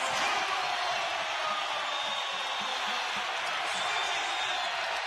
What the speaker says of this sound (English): Look at this crowd. They are into this game right now.